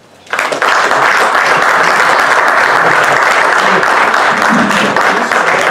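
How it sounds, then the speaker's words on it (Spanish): An audience at a school sports symposium in an assembly hall in Valladolid breaks into sustained applause, a dense, loud wash of clapping that rises quickly and holds steady throughout. "Pido un aplauso"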